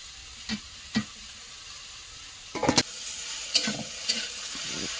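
Turmeric hits hot oil in a curry pan, giving a steady sizzle throughout, with a few louder crackling bursts and occasional stirring knocks, close up.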